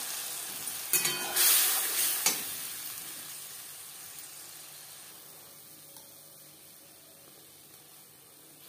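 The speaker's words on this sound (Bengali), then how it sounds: "জিরে ভেজে নেওয়ার পর দিয়ে দেব আদা, রসুন, পেঁয়াজ ও টমেটোর পেস্ট।" Ginger, garlic, onion and tomato paste hits hot oil with toasted whole cumin in a pan, giving a loud burst of sizzling and spitting that settles into a steady, quieter frying hiss.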